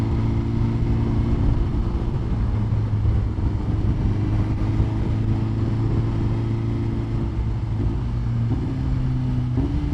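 Ducati Panigale V4 or BMW S1000RR superbike ridden on the street, a steady loud engine drone with shifting pitch as it changes gear, continuous through the whole stretch with no talk.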